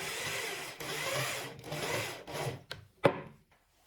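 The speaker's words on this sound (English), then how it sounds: "you can use it to help this screw go much easier throughout the wood" A screw being driven into oiled wood, a steady grinding, rubbing creak in several pulls with short pauses, close and fairly loud, ending in a sharp click before quiet.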